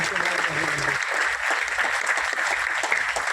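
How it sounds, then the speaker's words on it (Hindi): A crowd at an Indian ayurveda product presentation claps steadily for a women's product, the dense applause continuing throughout with a voice heard briefly at the start. "वुमेन्स के लिए एक बार जोरदार वाली ताली होनी चाहिए"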